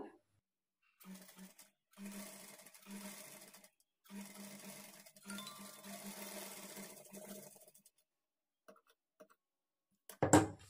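A sewing machine stitches a small frill onto a blouse in several short, fairly quiet runs with pauses between, ending with a sharp handling knock.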